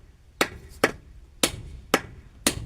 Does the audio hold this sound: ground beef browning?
no